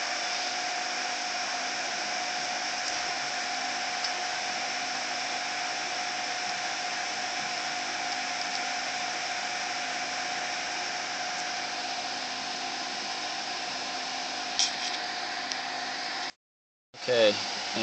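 A computer video card fan gives a steady, airy whoosh at a constant level for most of the clip. The sound cuts out abruptly near the end, followed by a brief louder rustle.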